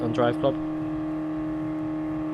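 A car engine in Gran Turismo Sport hums at a steady, even drone, holding a constant pitch after a brief burst of talk at the start.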